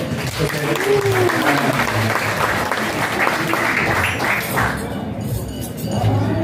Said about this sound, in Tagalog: Palakpak naman po tayo.